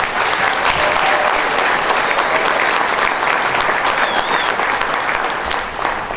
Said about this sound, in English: I'd like to give them a round of applause real quick.